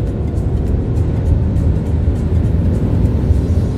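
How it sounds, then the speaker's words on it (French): Mercedes C400 4MATIC with a 330 hp engine running steadily under acceleration, a loud continuous low rumble with road and wind noise and no clear gap or pitch break at a gear change. "Et la boîte de vitesse passe très bien les rapports."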